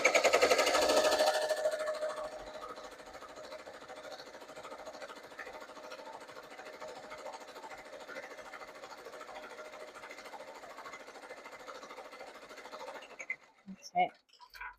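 An embroidery machine stitches cursive yarn lettering with a steady, even mechanical whirr. It starts louder, settles into a constant drone, then ends with a few clacks, and a voice talks faintly alongside.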